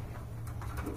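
Pigeons at a Bangladeshi pigeon market, including large Indonesian-colour birds, give soft cooing under a steady low background hum, with a few faint flutters or pats close by.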